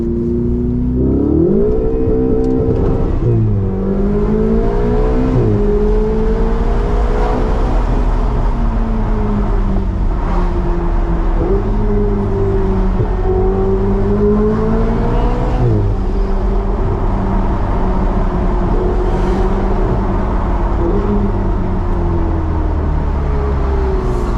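A Ferrari 488 engine revs hard during a burnout, loud and close, its pitch climbing and falling through several sharp surges over a continuous mechanical howl.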